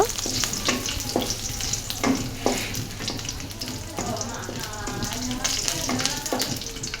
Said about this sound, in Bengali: তেল হয়ে গেলে এবার দিয়ে দিব আদা বাটা তারপর দিয়ে দিছি শুকনো মরিচ এটাকে একটু নাড়াচড়া করে নিব